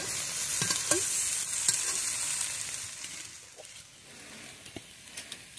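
Pumpkin peel and potato pieces stir-frying in a wok, with a steady bright sizzle broken by several scraping clinks of the spatula against the metal. The cooking sounds come from close by and nobody talks.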